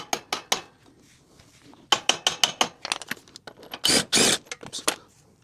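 A ratchet tightening a nut on a Toro Z Master zero-turn mower gives quick, sharp metallic clicks in bursts, near and loud, with brief pauses between strokes.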